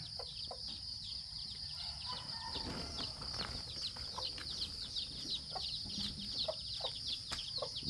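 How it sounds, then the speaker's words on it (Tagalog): Chickens cluck in short bursts against a steady high-pitched hiss, with scattered rustling and a few fluttering noises in cold, foggy conditions; no one speaks. "Itong manok na to talaga,"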